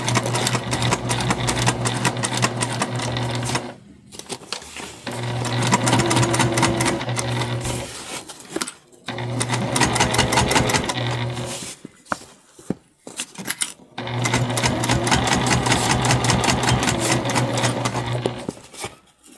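Sewing machine basting around the edge of a fabric bum bag: rapid mechanical stitching in long continuous runs with short pauses between them, loud and close with no voices.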